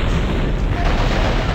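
A loud, continuous roaring blast as an enemy vehicle is destroyed in the Mech Commander game, a dense explosion rumble filling the whole moment.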